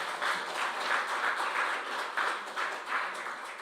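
Warm audience applause of thanks for government ministers at a National Assembly forum launch, a steady broadband patter of many hands clapping at moderate distance, pulsing gently throughout.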